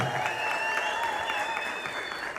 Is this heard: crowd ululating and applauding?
yes